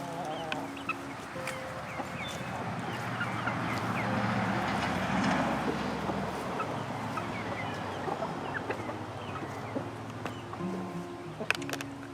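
Chickens in a backyard coop: a steady mix of clucking and chirping, with some older birds among the young chicks, fairly close and continuous, with no talking.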